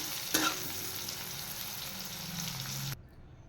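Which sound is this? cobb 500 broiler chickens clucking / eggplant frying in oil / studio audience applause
eggplant frying in oil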